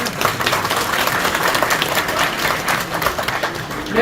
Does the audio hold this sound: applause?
yes